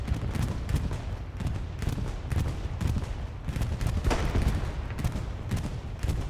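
A bombing run in Hell Let Loose over Hürtgen Forest during a competitive match: a dense, rumbling barrage of explosions and heavy fire rolls on continuously, with bursts pounding through a thick low roar.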